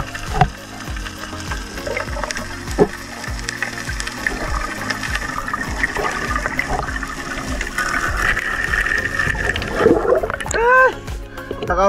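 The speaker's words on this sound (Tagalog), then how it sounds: "lakas ang agos to" A strong water current rushes loudly and steadily at a rocky sea spot, with scattered clicks and knocks throughout and a brief high voice-like warble near the end.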